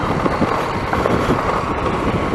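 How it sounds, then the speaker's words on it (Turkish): Strong wind on the sandy shore at Eşkel roars steadily against the microphone, a dense, loud rumble with small fluctuating gusts throughout and no voices. "saat şu an 7 civarı ve rüzgar biraz fazla"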